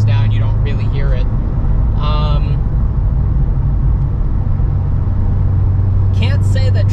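A Corvette cruises along the road with a steady low engine rumble and road noise filling the cabin, while people talk over it intermittently.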